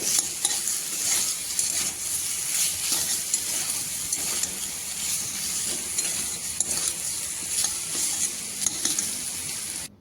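Spice paste with added tomato sizzles and hisses steadily in a pan for a taki fish curry, with soft stirring scrapes throughout and no talking.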